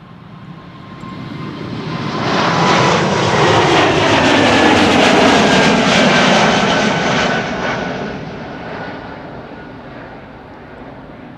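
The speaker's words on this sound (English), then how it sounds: "in the background we can occasionally see airplanes coming in, we can hear them" A fixed-wing airliner comes in to land on the center runway at Amsterdam Schiphol, its engine roar swelling from a distance to a loud, sustained rush, then slowly fading away, with no one speaking.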